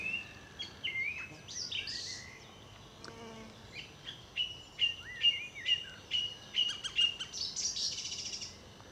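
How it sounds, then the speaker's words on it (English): A song thrush sings nearby on a countryside walk around Barkway in Hertfordshire, delivering clear, varied whistled phrases with short repeated notes and trills in bursts separated by brief pauses, with no talking over it. "And I think that's a song thrush behind me."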